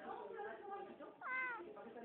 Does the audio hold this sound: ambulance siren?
no